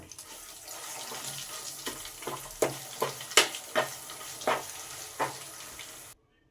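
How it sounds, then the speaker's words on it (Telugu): Sizzling and frying of mint and chili paste in a tempering pan, with scattered stirring clatters and crackles, steady and close, no voices. "పుదీనా మిరపకాయల పేస్ట్ని దీనిలో వేసి మంచిగా వేయించుకుందాం"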